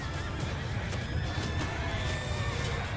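Cavalry horses in Mount and Blade II: Bannerlord neigh and whinny loudly over a dense battle din, with hooves clattering steadily underneath throughout.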